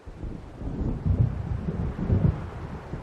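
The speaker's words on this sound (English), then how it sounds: "It seems there's a storm coming." Distant thunder rolls in the video game Alan Wake Remastered as a storm approaches, two soft low rumbles swelling and fading over a bed of wind-like noise.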